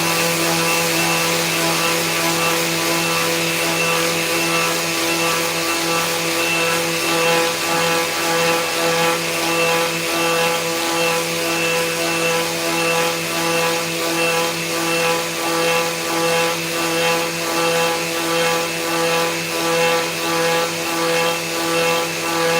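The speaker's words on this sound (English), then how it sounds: "See if this sands up nice now and see if I can get it tight." A purpleheart wood box mitre joint being power-sanded, a steady, loud machine whir with a constant pitched hum and a faint rhythmic scratching texture that runs unbroken throughout.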